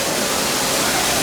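The indoor waterfall at Casa Bonita restaurant gives a steady, loud, close rushing roar of falling water with no voices.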